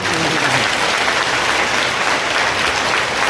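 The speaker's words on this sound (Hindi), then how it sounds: "तालियां फिर कब हो गई" An audience at a spiritual discourse claps loudly and steadily, a thick, uniform roar of many hands filling the space, sustained at even intensity with no speech over it.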